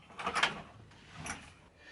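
Doors on a Bristol aircraft, worked by a handle turning a shaft, slide open and shut in two soft scraping movements, faint and close with a quiet pause between.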